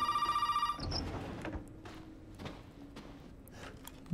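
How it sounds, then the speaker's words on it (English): A telephone rings loudly for under a second in the Resident Evil 7 video game, then cuts off. Soft footsteps and dim ambient game sound follow. "I hear a phone."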